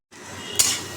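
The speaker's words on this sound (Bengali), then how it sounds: "লঙ্কা আর কালো জিরে দিয়ে একটু ভাজা ভাজা করে নিচ্ছি।" Pumpkin with green chili and black cumin frying in a pan, a steady sizzle starting abruptly and swelling into a brighter hiss midway as the pan is stirred, close and alone.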